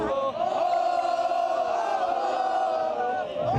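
Football fans of a small Saudi Pro League club scream, shout and cheer in a loud sustained roar from a compact but noisy crowd, with voices merging into one bellowing chant.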